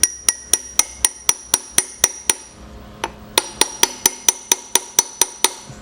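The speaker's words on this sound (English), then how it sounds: "let me get my hammer here" Hammer tapping parts into a Maytag 72 engine casting during a rebuild, a rapid, even series of sharp metallic taps, about a dozen, then a brief pause and another steady run of taps, loud and close.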